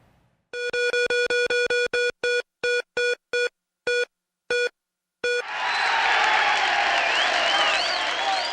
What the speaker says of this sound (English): And again, the crowd goes wild